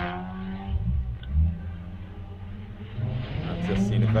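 A turbocharged Mazda MX5 race car drives hard through a sprint course at Llandow circuit, its engine droning and rising in pitch at middling distance, under continuous commentary voices.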